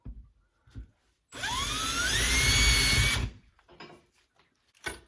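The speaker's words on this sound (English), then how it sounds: "Drill yourself a little hole." A power drill whirs loudly for about two seconds, its pitch rising as it bores a hole into a wall, with quiet handling noises before and after.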